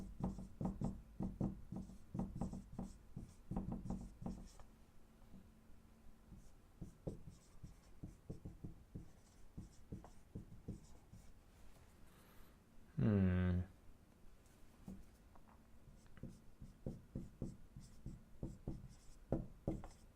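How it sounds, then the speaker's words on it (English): Pen or pencil scratches steadily across paper while notes are written by hand, a close, quiet run of short strokes with a brief louder squeak partway through. "I'm going to write some of that down"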